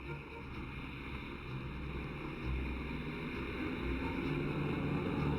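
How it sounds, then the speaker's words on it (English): Six twin-cyclone radial engines of a huge flying boat roar steadily at a sea mooring, a dense continuous rumble that builds slightly in loudness, with no talk. "The 6 twin-cyclone radial engines roared to life, kicking up a vortex of sea spray as the huge bird moved away from the mooring."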